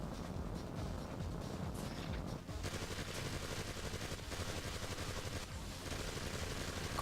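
Rapid video-game gunfire bursts while flying and shooting turrets in MDK 2, dense continuous rattling shots layered over engine-like drone, loud and sustained without speech.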